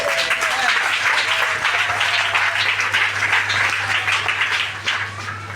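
A congregation at a church service applauds with dense, sustained clapping that stays loud throughout, with faint voices mixed in.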